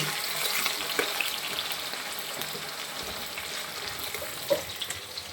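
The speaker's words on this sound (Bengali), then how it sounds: "পেঁয়াজের কুচি দিয়ে একটু নাড়িয়ে দেবো" Chopped onion sizzles steadily in hot oil for a chicken curry, with a few sharp clicks and scrapes as it is stirred, close and continuous with no talking.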